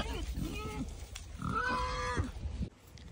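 Low grunts and snorts from a wet pig close by at an animal sanctuary, with a person talking over them in a cheerful voice.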